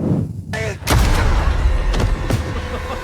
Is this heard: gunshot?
yes